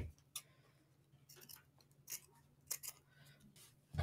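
Sharp scissors snip off the excess zipper trim on a fabric necessaire, each cut a separate crisp clip with quiet pauses between them, close and fairly soft.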